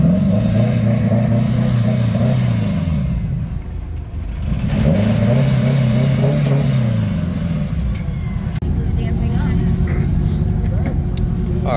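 Car engine revving and accelerating at close range as a vehicle drives down the display ramps at an outdoor import and performance car show. Engine notes rise and fall in two long sweeps, with crowd chatter underneath.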